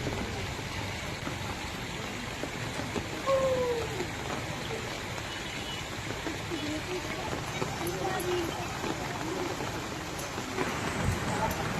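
The first monsoon rain of Sawan in Indri falls steadily as a dense, continuous hiss of drops, with someone talking over it throughout.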